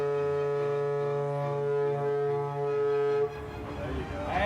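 A loud, sustained horn blast with a deep, rich tone holds steady for about three seconds, then cuts off into murmuring crowd noise.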